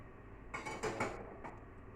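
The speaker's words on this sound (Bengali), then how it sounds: "ঢাকাটা খুলি" A metal lid is lifted off a cooking pot in a home kitchen, giving a few soft clinks and a brief scrape of metal, quiet and close.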